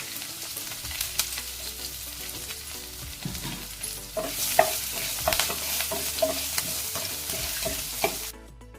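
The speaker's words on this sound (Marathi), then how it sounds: "फोडणी चांगली परतून झालेली आहे" A Marathi-style tempering of asafoetida, curry leaves and crushed garlic sizzles steadily in hot oil for a drumstick curry, with a spoon stirring and scraping the pan at irregular intervals; it is close, moderately loud, and no one speaks.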